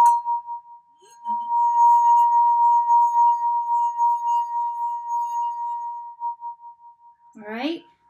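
A wet finger circling the rim of a crystal glass draws out a steady, pure ringing tone that holds for several seconds and then fades, followed by a brief stray noise at the end.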